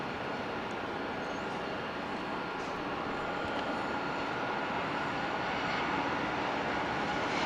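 Southwest Airlines Boeing 737-700 bound for San Jose, a continuous broadband jet roar held at a steady, fairly strong level throughout, with no voices over it.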